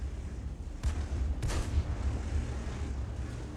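An FV304 artillery gun fires in a video game, giving two deep, heavy booms about half a second apart over a low rumbling background, with no talking.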